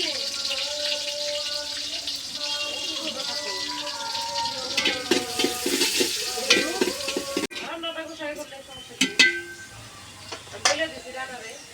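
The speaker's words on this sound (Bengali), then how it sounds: "পোলাও রান্নার জন্য পেঁয়াজ ভাজার জন্য তেল দিয়ে নিল।" Chopped onions fry in hot oil for pulao with a continuous sizzle and the scrape and clatter of stirring. Toward the end the sizzle drops off and sharp utensil knocks and faint background voices come through.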